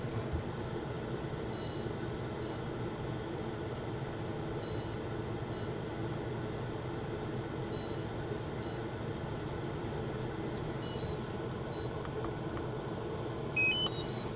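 A GPS unit wired to a Pavo Femto drone emits paired high electronic beeps repeating about every three seconds over a steady hum, with a faster flurry of tones near the end.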